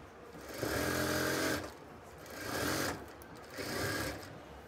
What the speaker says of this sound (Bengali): তারপর এইভাবে ধরে কিন্তু আমরা এটাও সেলাই করে নেব।